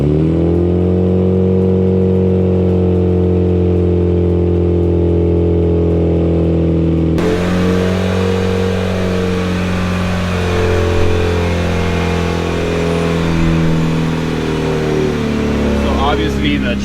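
A Mitsubishi Evo engine runs at a steady idle, its low rumble continuous and close, with a shift in tone partway through as it settles.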